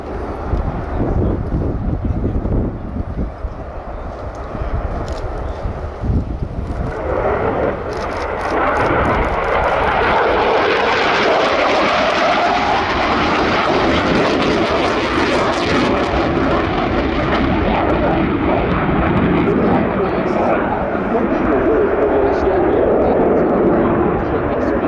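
Aircraft engine roaring through an inverted pass at the RIAT airshow, a loud broadband roar that swells after a quieter start and holds steady and close to the end, with faint crowd sound underneath.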